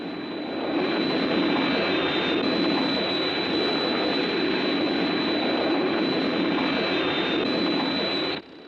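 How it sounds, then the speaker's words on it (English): An International Rescue aircraft approaches with a loud, sustained jet roar and a high whine. The noise holds steady, then cuts off abruptly near the end, with no speech. "Hey, I hear an aircraft. It must be international rescue."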